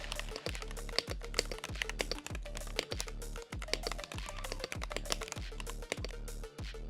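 Quick, close typing on a pink RoyalAxe Y68 mechanical keyboard with double-shot PBT keycaps and linear Gateron switches, a steady stream of crisp clacks and thocky keystrokes at a brisk, uneven rhythm.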